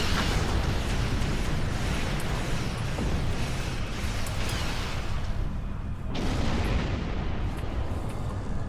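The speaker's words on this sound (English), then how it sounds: "Oh, heavy torpedoes." Heavy torpedo explosions in the Star Trek Online space combat game, a continuous dense barrage of booming blasts and rumbling impacts that stays loud throughout, with a brief dip in the roar before it swells again.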